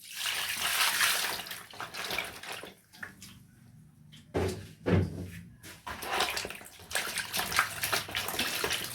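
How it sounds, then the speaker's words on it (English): Tap water runs steadily into a basin as passion fruits are washed, with a loud rushing stream that dips briefly and returns, plus splashing from handling the fruit, close by. "So the next thing we are going to do is to wash our passion fruit."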